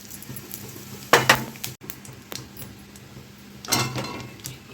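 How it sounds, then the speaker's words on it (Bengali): Cardamom, cinnamon and whole cumin sizzle in hot oil in a wok, a low crackle punctuated by a couple of louder bursts of spattering and light utensil clatter. "কড়াইতে এবার এলাচ, দারচিনি আর গোটা জিরে দিয়ে দিলাম।"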